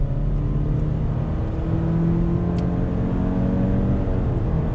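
A 2020 Subaru Legacy with the naturally aspirated 2.5 engine accelerating, heard from inside the cabin: a steady, fairly loud engine drone with rising harmonic tones over constant road rumble, no voices.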